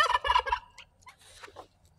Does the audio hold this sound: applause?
no